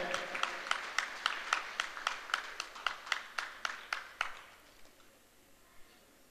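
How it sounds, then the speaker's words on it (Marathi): Audience applause at a marriage-candidate and parents' introduction gathering, with a string of distinct, fairly faint claps from a small crowd in a quick, uneven rhythm. The clapping thins out and fades, with a last clap after a short pause. "वा एकदा जोरदार टाळ्या होत्या"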